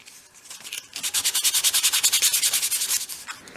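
Sandpaper works paint off 1/12-scale miniature stairs in quick, rhythmic strokes, about twenty close, scratchy passes in a steady burst that fades at the end.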